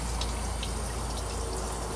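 Coolant water flushed clear of rust gushes steadily out of a London taxi's heater core pipe, a close, continuous splashing rush with no pauses.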